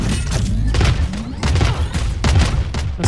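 A rapid series of loud booming blasts from a missile strike in a video game, the explosions landing in quick irregular succession with heavy low rumble between them.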